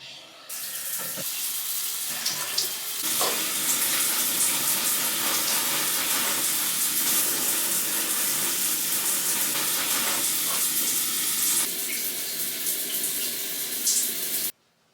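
A shower runs with a continuous, loud hiss of spraying water for about fourteen seconds before cutting off abruptly.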